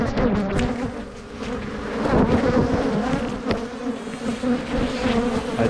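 Honey bees buzz densely around hive frames while colonies are being split, a loud, continuous close-up hum with a few louder passes near the microphone.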